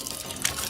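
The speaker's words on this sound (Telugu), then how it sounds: "నువ్వు ఫోన్ చేసినప్పటి నుంచి ఆ ట్యాప్ కారుతూనే ఉంది." A leaking water tap runs into a sink, a brief steady splash and trickle of water with a slight surge midway, heard alone.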